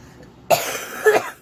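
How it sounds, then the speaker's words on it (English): Two sharp coughs close to the listener, a quick one followed by a slightly louder second cough half a second later. "First, I'm going to cough."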